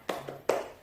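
A primary-school class in Indonesia does a rhythmic spirit clap, two quick, sharp hand claps in succession, close and fairly loud in a small room.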